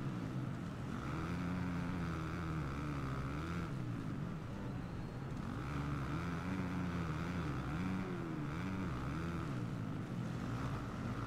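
Motocross bike engines race in the video game MXGP 2020 at the GP of Latvia, a continuous loud droning whine that rises and falls with gear changes, several bikes blending together without talk.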